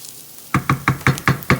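Food is stirred in oil in a pan while cooking stuffed Cornish game hens, six evenly spaced sizzling scrapes and knocks sounding close and loud after a quiet start.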